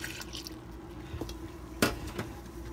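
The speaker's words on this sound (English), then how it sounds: "Now we are going to be adding in some water." Water poured into a bowl of flour, baking powder and salt for Guyanese roti dough, soft trickling and dripping with a small splash, close and quiet.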